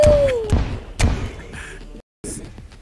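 Bombs go off in the video game Terraria as sharp, heavy thuds, three booming hits roughly half a second apart followed by lighter bursts, a brief dropout and one more blast, with some game effects between.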